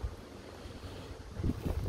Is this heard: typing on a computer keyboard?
no